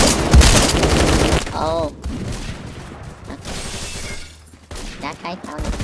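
Shotgun fire in a video game, a rapid burst of loud blasts at the start followed by scattered shots and game effects, with a player's voice briefly heard.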